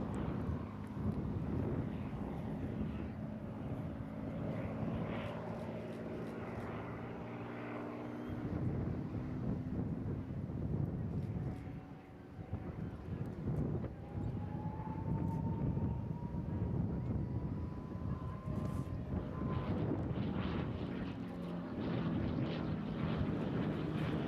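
A combat aircraft flies past at the Eastbourne International Airshow: loud, sustained jet roar rising and shifting in pitch as it passes, with a distant whine.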